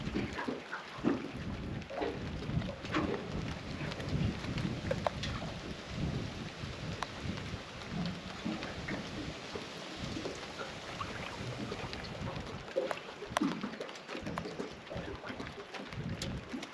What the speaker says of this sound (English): Oh, Nelly, and it's starting to rain, Skipper.